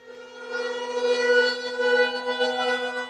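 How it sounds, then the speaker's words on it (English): A steady wailing siren marking the 20th anniversary of the Indian Ocean tsunami in Aceh, Indonesia, drones on continuously with a rich, layered tone, sustained and fairly loud, carrying outdoors with no voices. "you're actually now hearing sirens to mark the commemoration of the 20th anniversary of the Indian Ocean tsunami."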